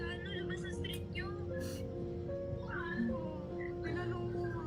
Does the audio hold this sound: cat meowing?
yes